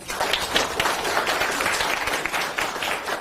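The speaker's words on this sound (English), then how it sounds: "Can we give him one more round of applause?" An audience at a city manager listening session claps steadily in a continuous round of applause, moderately loud and even throughout with no talking.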